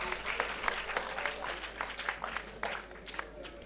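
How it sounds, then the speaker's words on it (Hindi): Applause from an audience at a foundation day ceremony in Lucknow for the deputy chief minister, a fairly faint, steady patter of clapping through the whole stretch, with a hum underneath and no speech. "एक बार बहुत जोरदार तालियां"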